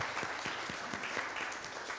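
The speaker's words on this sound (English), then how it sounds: "big applause from all of you for Malaji" Applause from an audience at a Hindi Divas 2024 event: dense, steady clapping from many hands, fairly faint and distant, with no speech.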